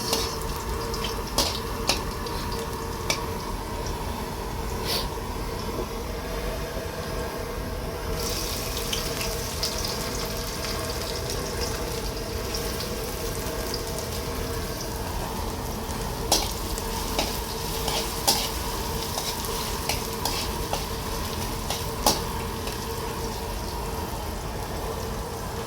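Garlic frying in a pan, a constant close sizzle with intermittent stirring clatters and scrapes, water-like hiss running throughout and no voices.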